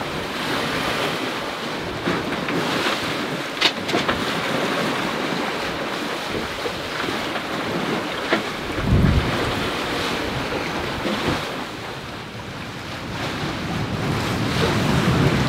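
Ocean waves and steady wind around a sailing boat at sea off Western Australia, a constant loud rushing hiss with wind buffeting the microphone and occasional heavier splashes of water against the hull.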